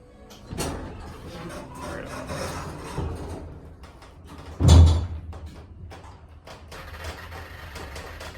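A 1993 Montgomery Vector hydraulic elevator door slides shut in a mall cab with a soft rubbing rumble and a heavier thud midway, set against faint background murmur.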